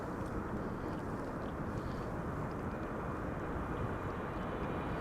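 An Air France Boeing 777 freighter landing at Amsterdam Schiphol in windy weather, a steady broadband jet roar mixed with wind rumble, continuous and fairly distant.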